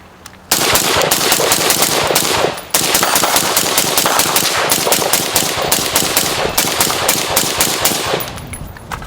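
Rifle fire through an Energetic Armament Ferox suppressor comes in long, rapid strings of shots, loud and close, with a brief break near the start and no talking.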